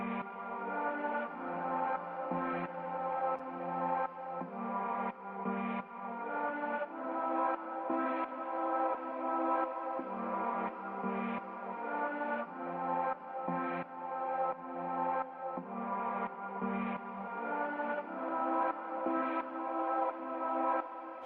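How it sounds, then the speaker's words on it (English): A pulsing, looping music mix processed with a heavy stereo widening effect from a Brainworx bx_digital V3 plugin, steady and full-bodied with rhythmic accents throughout and no speech. "what I'm doing is massively spreading a stereo field."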